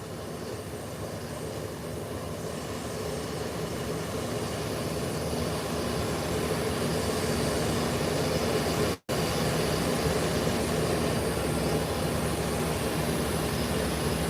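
An American Airlines airliner lands at an airport, a steady broad roar of jet engines and rushing air that holds at constant loudness throughout, with a brief sharp dropout partway through and no talking.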